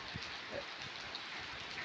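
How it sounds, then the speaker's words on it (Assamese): Steady, dense hiss of heavy rain pouring down nearby, continuous and even with no voices. "এতিয়া ধাৰাসাৰ বৰষুণ, এয়া চাওক আপোনালোকে"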